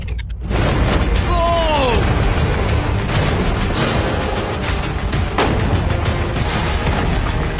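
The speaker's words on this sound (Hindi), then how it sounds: "पहला शॉट फायर करो।" Shots ring out at a shipping container with a heavy boom, followed by a long reverberant roar and another blast later on, loud and close, with people talking over it.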